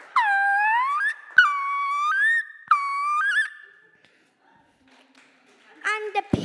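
A child imitates a peregrine falcon with their voice, giving three long, shrill whistled cries in a row, loud and close, followed by a pause and a shorter burst.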